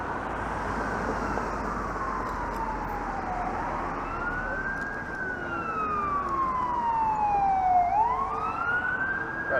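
A fire truck siren approaches along a Toronto street, its loud wailing pitch sweeping up and down repeatedly over steady traffic rumble.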